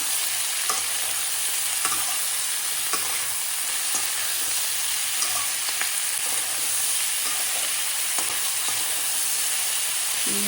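Mixed vegetables sprinkled with salt sizzle steadily in a hot pan while a spatula stirs and scrapes through them in irregular knocks, close and continuous.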